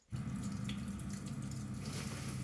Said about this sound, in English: I didn't know that there was, like, running water sounds.